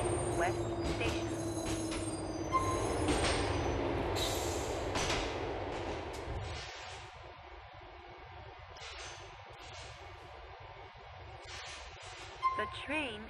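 A subway-style train in Grand Theft Auto IV's Liberty City rumbles along the rails, loud and close at first with squealing wheels, then settles into a quieter steady hum with a faint chime near the end.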